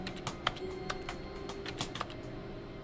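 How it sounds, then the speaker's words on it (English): Computer keyboard typing in The Stanley Parable video game, a run of close, crisp key clicks in an irregular rhythm with a few sharper, heavier strokes, heard alone over a faint steady hum. "Like a keyboard."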